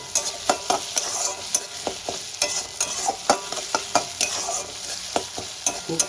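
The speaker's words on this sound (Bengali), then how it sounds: "পেঁয়াজটা একটু সময় নিয়ে লাল লাল করে ভেজে নিতে হবে" Onions fry in a pan under a steady hissing sizzle while a utensil stirs and scrapes them in frequent sharp clicks, close and moderately loud.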